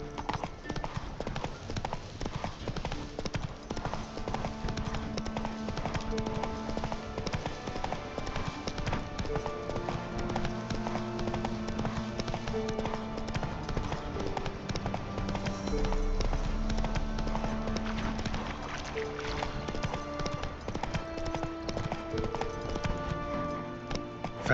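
Horse hooves clip-clopping at a steady galloping rhythm in The Witcher 3, loud and continuous throughout, with game music and ambient sound layered underneath.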